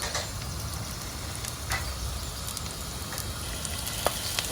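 Onions frying in hot oil in a clay pot, a soft steady sizzle and crackle with occasional sharp pops, fairly faint and close.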